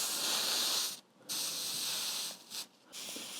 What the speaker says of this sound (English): Fortunately, birch takes a steaming very well, so this is a very quick process.